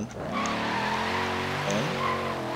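A car drifting in Forza Horizon 3 lets out a sustained, wavering tire squeal over a steady engine drone, the pitch bending as the slide shifts.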